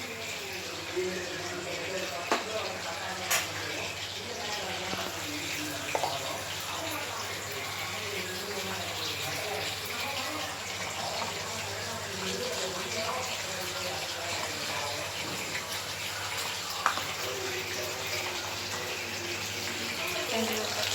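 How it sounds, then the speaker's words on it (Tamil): Coconut milk pours into a simmering country chicken curry, a steady, soft liquid rush and bubbling that runs unbroken for about twenty seconds, close and moderately quiet. "இப்போ வந்துட்டு நம்ம வந்து தேங்காய் ஊற்றிக்கலாம்"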